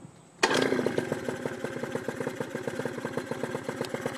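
A Honda Urban Express NU50 scooter fitted with a Mikuni VM18 carburettor starts abruptly after a quiet moment, then settles into a loud, steady, rapidly pulsing two-stroke idle close by.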